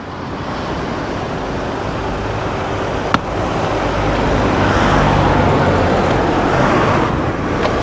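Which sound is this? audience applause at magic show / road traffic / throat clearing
road traffic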